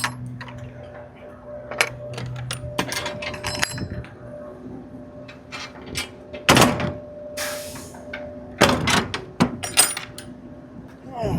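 Truck trailer doors are swung shut at a loading dock in Clifton, New Jersey: scattered metallic clanks and rattles build to two loud, close slams over a steady low hum.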